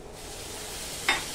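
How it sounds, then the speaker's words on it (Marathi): Cauliflower florets dropping into hot tempering oil for a Marathi-style cauliflower bhaji, a steady low sizzle with one brief burst of crackling near the end, close and fairly quiet. "हा फ्लॉवर फोडणीला टाकायचा आहे आपल्याला"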